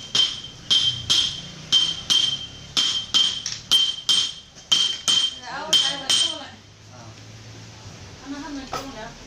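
A silversmith hammers pure silver jewelry in an early-morning workshop, delivering a run of sharp metallic strikes in an uneven rhythm, loud and close, with voices talking as the tapping trails off.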